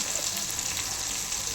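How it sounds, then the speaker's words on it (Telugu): Vegetables frying in oil for Telangana-style pappucharu make a steady, close sizzle that crackles evenly and keeps up without a break. "మన వెజిటేబుల్స్ ఆయిల్లో మంచిగా వేగుతున్నాయి కదా"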